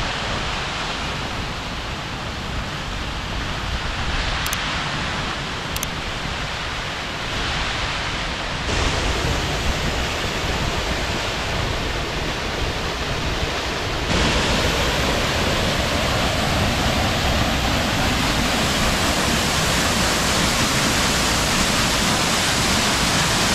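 Gluggafoss waterfall pours through holes in basalt rock in Iceland, a loud, continuous broadband roar that stays steady throughout.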